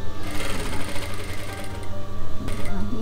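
A sewing machine stitches fabric layers of a pillowcase in a steady, rapid close-up whirring rhythm that runs throughout, with light speech over it.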